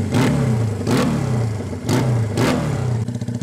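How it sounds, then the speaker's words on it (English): A 1975 Honda CB200T cafe-style motorcycle with dual Corsa exhaust and bell tips revs repeatedly, four sharp throttle blips over a burbling idle, close and loud, settling back to a lumpy idle at the end. "listen to the exhaust note on this thing"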